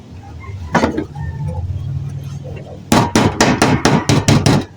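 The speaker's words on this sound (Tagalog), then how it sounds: "pukpok natin ng konti" Metallic hammer blows on thin galvanized sheet metal scrap: one early strike, then a rapid run of about seven ringing taps, close by, with background noise.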